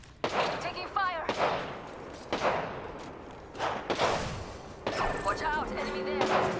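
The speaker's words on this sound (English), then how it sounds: "Taking fire." Bursts of gunfire in a video game crack out in several separate volleys, loud and close, with a voice talking over parts of the action.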